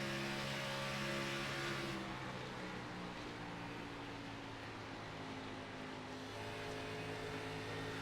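A race car engine in a sim racing game at Auto Club holds a steady droning tone with sustained harmonics, a brief louder throttle surge at the start, then an even steady pitch; no voices.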